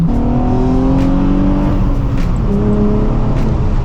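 A Nissan 350Z on a mountain drive, heard from inside the car: the engine blips and revs up on downshifts, with rising and falling pitch over a steady loud road rumble.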